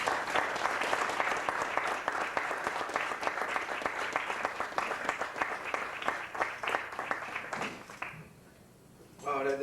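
Dense audience applause fills most of the span at a lecture event, many hands clapping steadily and loudly before thinning out and briefly dropping near the end.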